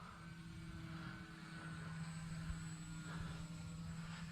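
An E-flite Cirrus SR22T RC model airplane flies at about half throttle, giving a steady electric propeller drone with a constant tone, held at a moderate distance and level throughout.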